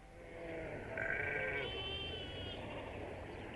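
Sheep bleat in a pasture, two or three wavering calls overlapping in quick succession, moderately close and clear over a soft outdoor background hush.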